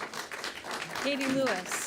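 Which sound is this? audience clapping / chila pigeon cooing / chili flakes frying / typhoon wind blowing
audience clapping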